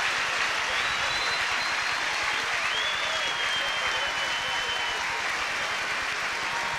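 Stadium crowd at the 1997 Sydney Track Classic applauding Carl Lewis, a steady dense wash of clapping with a few whistles, loud and sustained for the whole stretch without letting up.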